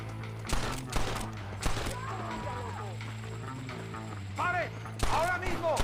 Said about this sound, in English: We'll shoot our way in there.